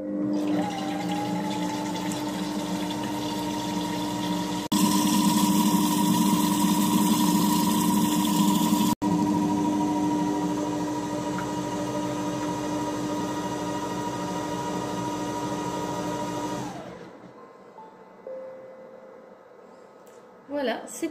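Mr Cuisine Smart food processor whipping egg whites, a steady motor whir with a brief louder surge, running for about seventeen seconds before stopping, followed by a few quiet clicks.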